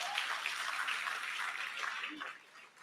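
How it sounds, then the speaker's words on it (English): A room full of audience members applauds at a National Science Week launch event after a musical performance, a dense, even patter of clapping that fades out toward the end. "So another round of applause then for the"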